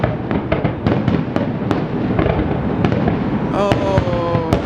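Canada Day fireworks go off in a rapid barrage of sharp bangs and crackles, some close and loud, others more distant, layered over a dense rumble that continues throughout.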